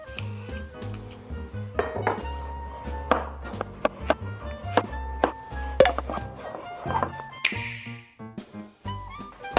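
Knife chopping a ripe tomato on a board, a string of sharp irregular taps with a few clinks and brief scraping, close and fairly quiet, with faint background music.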